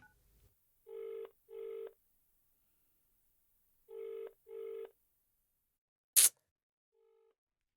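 An outgoing telephone call rings back in two pairs of double electronic tones, evenly spaced and fairly quiet, followed by a sharp click and a faint short beep.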